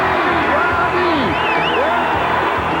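A huge crowd of about 30,000 fans at a motorcycle stunt show roars and whoops continuously, loud and dense throughout, with shouts rising above the steady wash of cheering.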